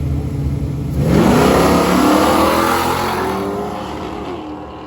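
A hot rod's engine roars as it accelerates hard on a street, the revs climbing loudly and then fading slightly as it pulls away.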